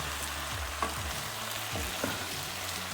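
Onions for French onion soup sizzle steadily in a pan, with a few soft scrapes against the bottom under a constant frying hiss.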